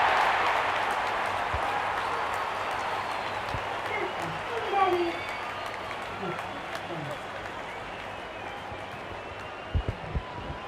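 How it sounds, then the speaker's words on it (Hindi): A crowd in a cricket video game applauds in a steady wash of clapping and cheering that runs throughout, with a commentator talking over it. "वाह, जब अपोनेंट फैंस भी ताली बजा दे तो समझ जाइए बैटिंग कमाल की हुई है।"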